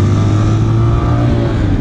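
A Vento Thunderstar 250 motorcycle's engine accelerates while riding, a loud steady drone with a strong low hum that holds throughout.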